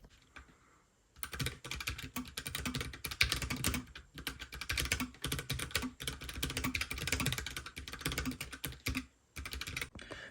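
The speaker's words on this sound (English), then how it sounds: "let's do a typing test so that we remember what it sounds like before I mod any of the main keys" Keys clack rapidly in a typing test on a mechanical keyboard before any mods, a dense run of crisp close clicks in bursts with short pauses, no voices.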